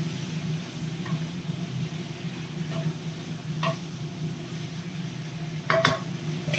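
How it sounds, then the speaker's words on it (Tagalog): Vegetables are added to a pan and stirred at home, giving soft clinks and scrapes of a utensil against the pan over a steady low hum, with a brighter clatter of metal near the end. "So now we can put our other veggie and mix it."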